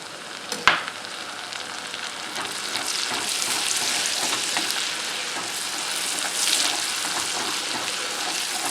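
Butter sizzling and browning in a pan in a Santa Fe restaurant kitchen, an even, moderately loud frying hiss after one sharp knock at the start, with no speech.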